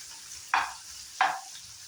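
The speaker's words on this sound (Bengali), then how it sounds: "এখন আমি ভালো করে ফ্রাই করে নেব।" Dried fish frying in a pan at home, two sharp bursts of sizzle over a low steady hiss, each flaring loudly then fading as the pieces are turned, with no voices.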